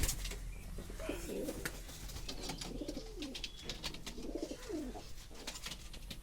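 Inside an indoor pigeon room, a male pigeon gives several repeated throaty coos in close succession. The calls are soft and near, with faint rustling and chirps behind them.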